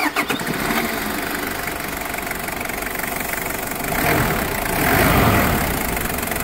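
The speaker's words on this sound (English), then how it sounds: "we're going to go ahead and give this diesel engine a crank" A Toyota Hilux Surf 4x4 diesel engine cranks with a few stuttering turns, catches, and settles into a steady rumbling idle that swells briefly a couple of times.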